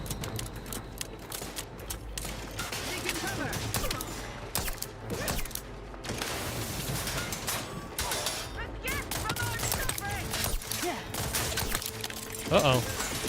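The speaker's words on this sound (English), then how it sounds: "Oh, there's a turret." Turret gunfire in The Outer Worlds 2, rapid bursts of shots and mechanical clatter mixed into loud game action, with a person talking at times over the noise.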